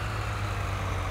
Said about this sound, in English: We'll keep running this tractor.